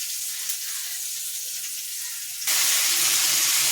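Potatoes fry in hot oil in a pan while a fish curry is being made, giving a steady hiss that jumps to a louder, brighter sizzle partway through, with no voices.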